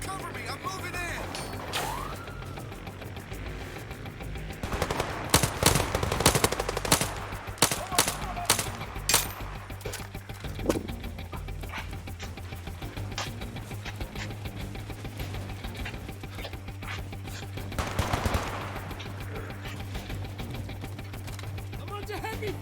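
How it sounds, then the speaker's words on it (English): Gunfire in the VR shooter Zero Caliber: bursts of rapid automatic shots and single cracks, loud and close, clustered in the middle with a later volley, over a steady low game drone and occasional voices. "I'm under heavy fire!"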